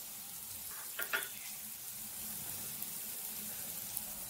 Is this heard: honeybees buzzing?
no